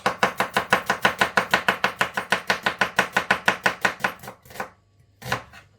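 A knife chops an onion on a cutting board in a fast, even run of about twenty crisp strokes, close and loud, then slows to two separate cuts after a pause.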